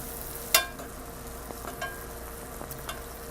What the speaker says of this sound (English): Fried in butter.